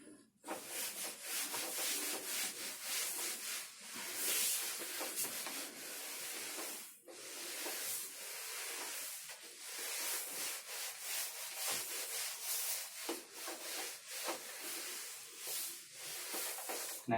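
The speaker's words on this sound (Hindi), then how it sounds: "इसको मैं रब कर रहा हूँ।" Writing being wiped off a board during a 12th-grade physics electrostatics lesson, heard as steady close rubbing and brushing strokes that continue for the whole stretch without talk.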